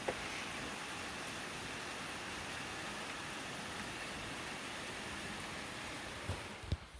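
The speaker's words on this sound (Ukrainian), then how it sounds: "А ми сьогодні дивиться дощик" Steady rain falls outside in summer, a dense, even hiss that holds throughout with a few faint taps near the end and no voices.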